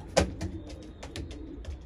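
A male pigeon coos at close range, giving a few soft throaty bursts among light rustling and small knocks.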